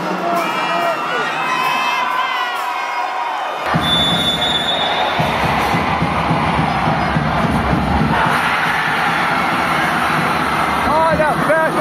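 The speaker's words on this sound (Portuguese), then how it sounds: "E a festa ficou por conta da torcida do Bandeirantes." A loud school crowd cheers and shouts to celebrate a futsal semifinal win by Colégio Bandeirantes over IEMA at the JECS games, with excited voices and whistling-like cries over dense, continuous noise.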